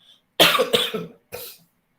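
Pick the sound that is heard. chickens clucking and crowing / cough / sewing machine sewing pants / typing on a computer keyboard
cough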